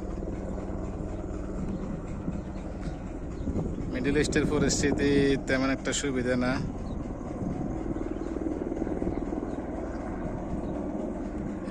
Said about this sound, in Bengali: ওই যে হেলিকপ্টার আইতেছে দুইটা।